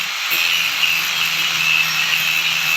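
Angle grinder working on the metal windshield mount of a motorcycle sidecar to strip paint before welding; a loud, continuous high-pitched grinding whine that stays steady throughout, with no speech.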